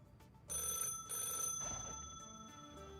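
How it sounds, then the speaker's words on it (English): A landline telephone rings with a bright electronic trill, repeated tones sustaining over a few seconds, moderately close and alone without talk. "Oh, is that a phone ringing?"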